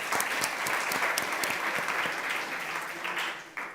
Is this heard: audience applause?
yes